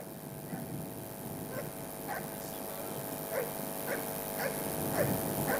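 A military working dog named Pookie searching boxes at a Nigerian Army Day display gives short, faint yips and barks at a steady pace, about eight of them, over a constant background hum.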